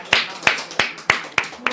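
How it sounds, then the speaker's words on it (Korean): A church congregation claps in thanks during a worship service: six sharp, evenly spaced claps in a steady unison rhythm, crisp and fairly close, with no talk over them. "우리 하나님의 은혜에 우리 한번 감사의 박수"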